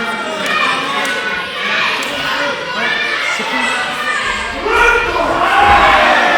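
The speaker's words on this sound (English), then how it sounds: "Some Danny chants in the background." A wrestling crowd in Aylesbury chants for Danny during a Nathan Angel versus Danny Isit match, a loud, rhythmic roar of massed voices that swells toward the end, with commentary over it.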